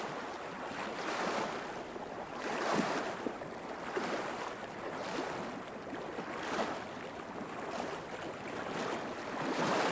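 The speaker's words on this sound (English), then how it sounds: "which the waves have brought in" Small lake waves wash steadily ashore in Yellowstone in rhythmic, moderately loud surges, blended with a constant rush of wind and water and no voices.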